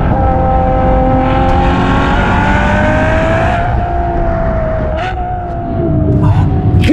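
A Ferrari GTC4Lusso's 6.3-litre naturally aspirated V12 runs loud and close in a sustained rising rev, then falls back with a couple of quick throttle blips near the end.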